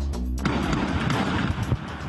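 Gunfire during a police shootout with drug traffickers, a dense continuous rattle of shots and booms filling the clip, loud and harsh with no pause.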